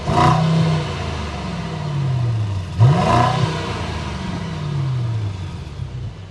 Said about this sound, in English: You'll notice that we actually have quad exhaust outlets, and that's going to be pumping out an absolutely fantastic sound.